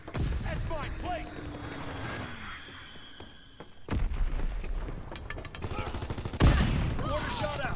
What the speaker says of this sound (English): Mortar shot out!